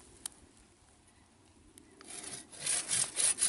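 A hand saw cuts across a fruit tree trunk to prepare it for cleft grafting, a rasping stroke sound starting faint and building into loud, rhythmic back-and-forth strokes over the last second and a half.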